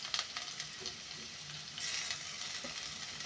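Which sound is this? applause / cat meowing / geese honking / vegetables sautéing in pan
vegetables sautéing in pan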